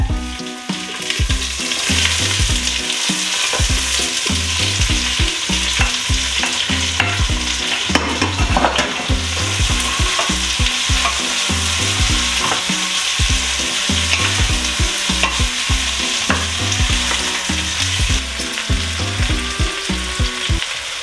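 Onion sizzling in a hot pan for a smoked pork roast recipe, a loud, close, continuous frying hiss with rhythmic stirring scrapes throughout and no talking.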